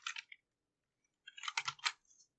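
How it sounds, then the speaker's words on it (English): Keystrokes typing text on a computer keyboard: a short burst of clicks, a pause, then a denser cluster of taps, close and clear in a quiet room. "And let's type some text here."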